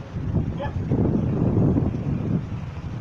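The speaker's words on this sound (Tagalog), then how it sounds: "masyado pong malakas ang hangin" Strong wind in rainy weather buffets the microphone with a loud, steady low rumble, continuous throughout with no clear pauses.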